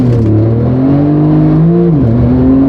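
A tuned Porsche 911 Turbo S of the 991 generation, around 630 hp, launches in Sport Plus with traction control off, its engine roaring loud and close at full throttle and climbing steadily in pitch with a brief dip at a gear change.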